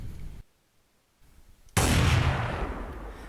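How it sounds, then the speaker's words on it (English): A single loud sniper rifle shot from a Minecraft gun mod, a sharp blast whose long booming tail decays after a brief near-silent pause. "first off, we have the sniper rifle"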